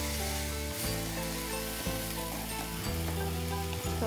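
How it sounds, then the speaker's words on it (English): Garlic ginger paste cooks over a lowered flame in a pan, a dense, steady sizzle that stays even throughout, with a faint low hum underneath. "I lower the flame and cook the garlic ginger paste."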